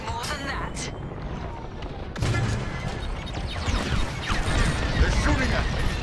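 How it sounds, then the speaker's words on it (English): Enemy starfighters shooting in Star Wars Squadrons, with a dense clatter of blaster fire and impacts over roaring engine rumble that grows louder midway, while voices speak over the action. "They're shooting at me"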